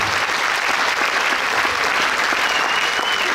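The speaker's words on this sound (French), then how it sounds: "Il est là, vous pouvez l'applaudir." At a French political campaign rally, the crowd applauds the mayor of Bordeaux in a loud, continuous burst of clapping that stays dense and steady throughout, with no voices rising above it.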